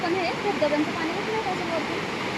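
Bendewadi waterfall at Khindi near Lonavala in the monsoon, a constant roaring rush of falling water heard from a distance, with voices talking faintly over it.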